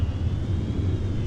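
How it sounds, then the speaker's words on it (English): A spaceship afterburner in Star Citizen Arena Commander gives a loud, steady engine roar with a low rumble and a faint high whine, continuous and close. "So they got the new afterburner sounds."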